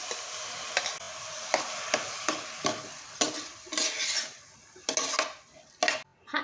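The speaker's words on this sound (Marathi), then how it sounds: "आता आपण ह्याच्यामध्ये मूग डाळ ॲड करूया भिजवलेली." Soaked moong dal and chopped dill leaves are stirred in a pan with a spoon, producing a series of short scraping clacks against the metal with gentle sizzling between strokes.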